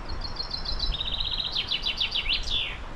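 A songbird calls nearby in woods near Rivington with a quick run of high, sweet notes ending in a descending trill, loud and clear over soft ambient hiss.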